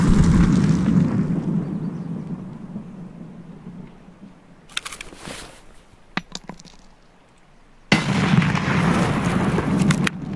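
Grenade blasts in a first-person shooter game: a heavy rumbling explosion at the start, fading into a lull with sharp pops, then another loud, sustained burst of blast noise near the end.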